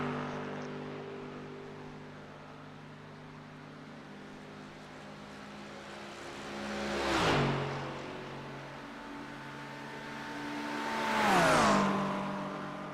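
Two race cars scream past on a straight in a video-game Le Mans race, an Acura among them, each engine's pitch rising then dropping sharply as it passes, over a steady engine drone.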